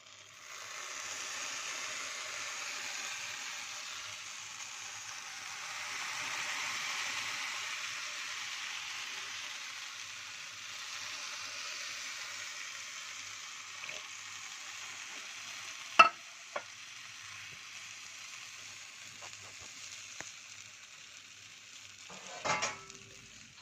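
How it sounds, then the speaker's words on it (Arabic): Cold syrup is poured over hot cream kunafa. It gives a soft, steady sizzling hiss that swells and fades, and a few sharp clinks of metal near the end. No voices are heard. "هسقيها بقى بالشربات اللي انا كنت عاملاه"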